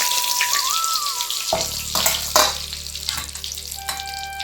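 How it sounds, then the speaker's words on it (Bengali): Bay leaves drop into hot oil for a Bengali-style mushroom masala, setting off a steady, close frying hiss with a few brief crackles and stirring noises, with no talk. "তেলটা গরম হয়ে গেছে, দিয়ে দিব তেজপাতা"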